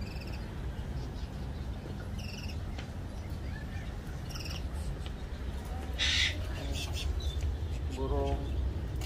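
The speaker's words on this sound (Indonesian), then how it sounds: "Banyak burung nih." Scattered bird calls chirp and whistle over a busy, noisy flea-market background in Dongmyo, South Korea, several short calls at irregular intervals, fairly faint.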